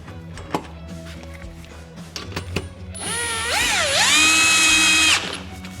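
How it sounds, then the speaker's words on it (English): An impact tool fastening a wheel set onto an iQ426HEPA machine during assembly: scattered clicks and clanks of handling, then a loud, close whirring rattle that rises in pitch and holds for about two seconds before stopping. "Now we grab our impact tool, go to our machine."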